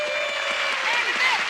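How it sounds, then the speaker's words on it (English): Studio audience applauds to welcome guest Bernadette Peters, a dense, steady wash of clapping with a sustained tone and some voices mixed in. "let's have a big round of applause for Miss Bernadette Peters"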